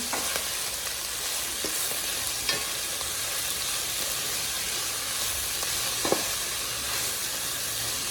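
Frying food with salt and cheese being stirred in, heard as a loud, steady hiss of sizzling oil with a few sharp utensil scrapes against the pan and no speech.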